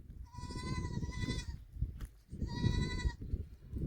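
Two long, wavering goat bleats ring out close by in a groundnut field, separated by a short pause, over a steady rustling background.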